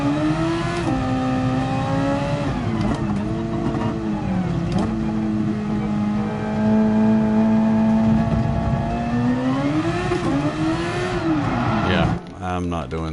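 A race car engine in GT Sport on PS4 revs loudly and steadily, pitch rising and falling through corners, with a voice talking over it throughout before it cuts off near the end.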